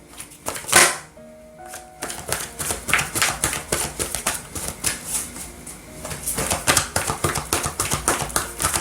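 Oracle cards for a tarot reading are shuffled by hand, giving a rapid run of crisp riffling flicks and taps, close and steady with no talk.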